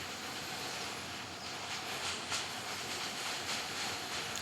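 A train passing in the mobile game Indian Bike Driving 3D, a steady broadband rumble and hiss of rolling rail cars heard continuously at moderate distance, with no speech.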